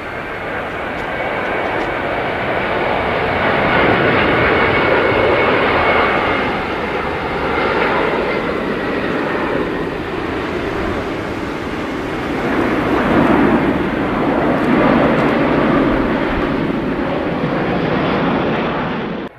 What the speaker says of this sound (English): This Airbus A380 fly at a high AOA nearly reaches stall speed.